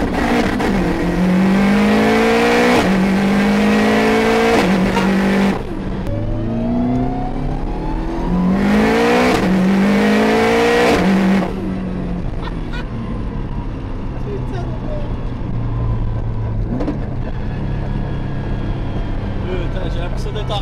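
A manual car revs hard through first and second gear, the engine climbing in pitch, dropping at each forceful shift and climbing again, loud and close, with someone talking over the engine.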